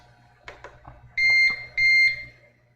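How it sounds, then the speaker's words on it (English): A UPS unit's alarm sounds two loud, steady electronic beeps, each about a third of a second long, after a few soft clicks and handling noises in an otherwise quiet room. "We can mute the alarm, I guess."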